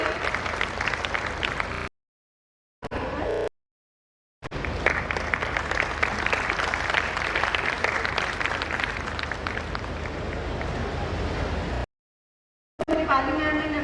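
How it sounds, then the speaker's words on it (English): Conference audience applause, a dense, sustained clapping from a crowd that runs across most of the stretch, broken by a few abrupt silent cuts. "A big round of applause for him."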